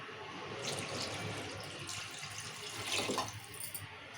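Water is poured into a pot of rice for bagara rice, a soft, steady trickle and splash that swells briefly near the end.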